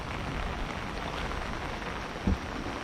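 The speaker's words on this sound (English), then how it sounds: "Fishing in the rain." Steady rain falls during a thunderstorm on a fishing outing, a dense continuous hiss with one brief low thump near the end.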